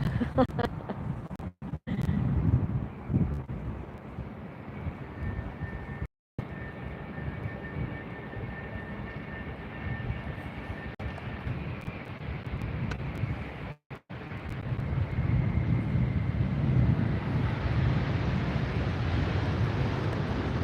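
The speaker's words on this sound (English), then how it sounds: "Beautiful landing on that Norse Airways flight" A Norse Airways jet airliner lands at LAX, heard as a sustained low roar of engines and rushing air that swells toward the end, distant and continuous with a few brief dropouts.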